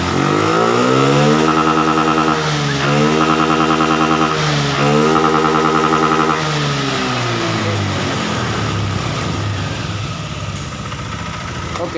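A Honda Beat Street scooter engine revs loudly and repeatedly up and down at close range, then settles into a rough, steady run.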